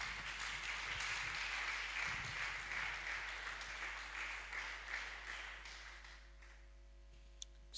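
A church congregation claps and applauds in praise, a dense, sustained wash of clapping from many hands over a low hum, fading toward the end.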